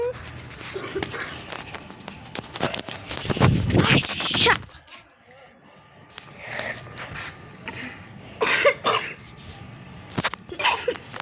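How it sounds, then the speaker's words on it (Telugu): A person coughs in a few rough bursts, close by, followed by rustling and shuffling sounds. "మనోడికి ఏదో దగ్గు వస్తుంది"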